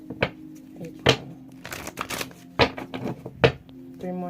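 Tarot cards are shuffled in several quick riffling bursts, close and crisp, with a soft voice speaking intermittently between them.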